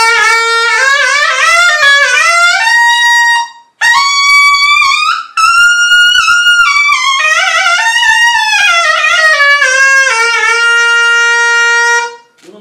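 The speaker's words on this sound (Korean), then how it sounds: "옥수수 전분이랑 플라스틱이랑 섞인 악기를 한번 들려드리면은" Piri, a Korean double-reed pipe made from a cornstarch and plastic blend, played in a loud, sustained melodic phrase with bright, buzzy held notes, a brief pause near four seconds and another around five, then continuing until the end.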